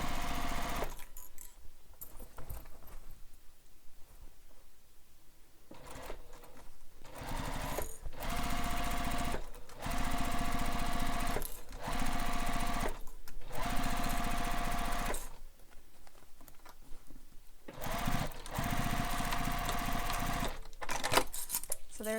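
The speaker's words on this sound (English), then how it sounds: "So we're going to sew these together, starting from the main corner here all the way to the other corner on the main, where the main meets the mesh." A sewing machine stitches straight fabric edges together, its fast mechanical whir running in several bursts separated by short pauses.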